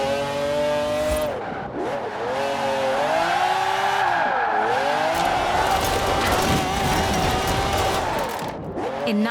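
A McLaren F1 in the racing game Forza Horizon 4 revs hard through several gear changes, its engine note rising and dropping in a loud, close, high-pitched wail, with tire squeal and no talking.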